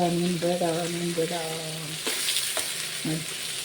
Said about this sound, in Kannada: ಇನ್ನೊಂದು ಕಡೆಯೂ ಕೂಡ ಫ್ರೈ ಆಗಬೇಕು, ಆಗಲೇ ನಮಗೆ ತಿನ್ನಲಿಕ್ಕೆ ಚೆನ್ನಾಗಿರೋದು